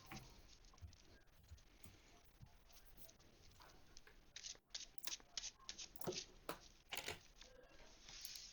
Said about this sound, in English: I think I just flipped a card while shuffling.